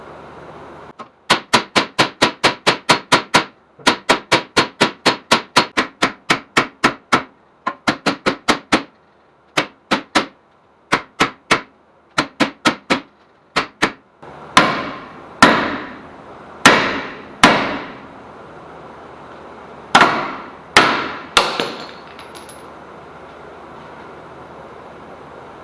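Hammer blows on a corroded rear hub bearing of a Ford Taurus ring out in rapid metallic volleys, then slow to heavier, widely spaced strikes that echo loudly, with no talking.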